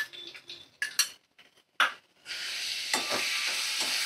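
Goat liver chachchari frying in a pan while two spoons of sour yogurt go in and get stirred: a few scattered scrapes and clinks, then a steady, close sizzle that swells and carries on under the stirring.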